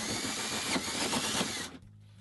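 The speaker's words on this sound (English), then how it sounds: "put it there and you're ready to drill your hole" A power drill whirs steadily while boring a hole for a Showermiser installation, then cuts off abruptly, leaving only a low residual hum.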